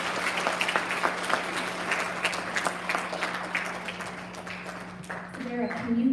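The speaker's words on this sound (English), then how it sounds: "Big round of applause for our third graders." An elementary school audience at a student recognition ceremony claps for the third graders in a sustained round of applause, while a voice carries over the clapping near the end.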